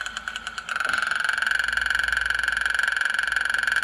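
Motorbike engine in a tablet video game, a steady buzzing drone that revs up and holds at a constant pitch, loud and alone after a brief rougher start.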